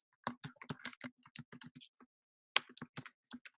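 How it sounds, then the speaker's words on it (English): Quick keystrokes rattle on a computer keyboard in two close bursts of typing with a short pause between, crisp and near with no voices. "I'm gonna type this out."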